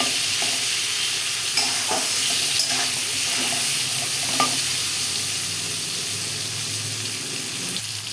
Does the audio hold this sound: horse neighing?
no